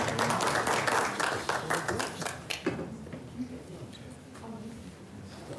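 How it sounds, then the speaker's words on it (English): A crowd at a Kern County Board of Supervisors meeting gives a round of dense applause that thins to scattered claps and fades, with voices over it. "Another round of applause."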